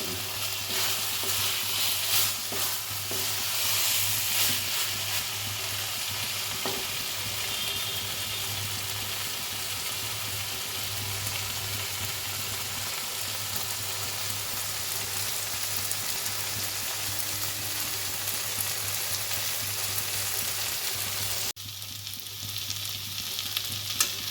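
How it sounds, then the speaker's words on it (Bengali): Boiled banana blossom cooking in a pan as its water dries off, a dense, steady sizzle with light stirring, close and continuous until it suddenly drops quieter near the end; no voices. "মোচার জলটাকে ভালো করে শুকিয়ে নেব, না হলে খেতে ভালো লাগবে না।"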